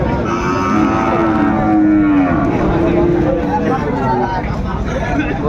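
Cattle at a Sahiwal calf livestock market moo loudly and close, with long drawn-out calls over a constant hubbub of crowd chatter and voices.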